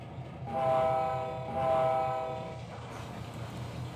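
Model railroad train on a layout sounding two sustained horn blasts over a low running rumble, moderately loud and steady, with no talk.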